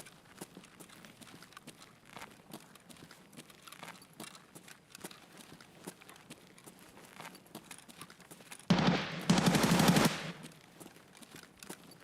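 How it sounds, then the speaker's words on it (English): Gunfire from an AK rifle in a video game: a loud, dense burst of rapid shots lasting about a second and a half near the end, after a long stretch of quiet ambient game sound and faint footsteps. "That was like an AK or some shit."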